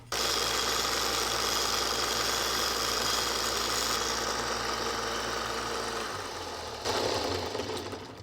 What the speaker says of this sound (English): I'm going to use a different sander to kind of clean it up a little bit better, take off those rough edges